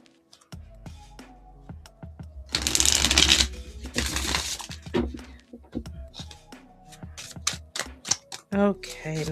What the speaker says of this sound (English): Okay, nice shuffle going.